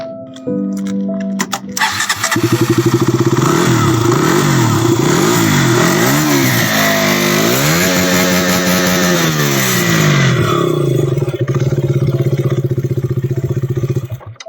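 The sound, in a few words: KTM Duke motorcycle riding off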